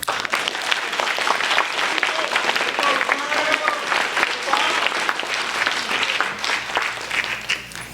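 Audience at a school 12 Club induction ceremony gives a sustained round of applause, dense steady clapping filling the room from start to finish with a few scattered voices and whoops mixed in.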